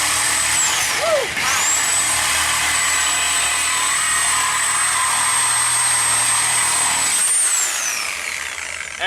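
A power tool cuts off a truck exhaust with a steady, high-pitched spinning whine that starts, holds for about six seconds, then winds down, close and loud over a faint background.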